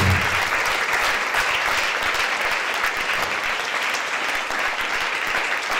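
A church congregation claps loudly for Jesus, a dense, steady wash of applause that stays even from start to finish.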